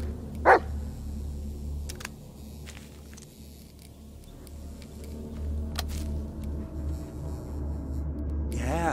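A dog in the video game Blair Witch gives one sharp bark near the start, followed by quieter low rumbling ambience and a few faint knocks.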